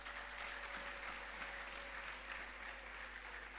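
A church congregation applauds during a sermon, a dense, steady wash of clapping that holds evenly for the whole stretch, with no voices over it.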